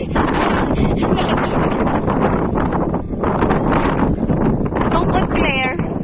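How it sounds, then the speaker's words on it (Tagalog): Strong wind buffets the microphone on a mountain peak on Lantau, Hong Kong, a continuous loud rushing roar with gusty swells, while people talk faintly underneath. "Tapos mahangin pa, no?"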